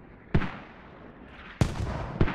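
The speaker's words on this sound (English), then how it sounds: "Commander calling in just completely accurate mortars here." Mortar strikes in the Squad military shooter game land as three sharp, booming impacts, spaced unevenly, each trailing into a rumbling decay.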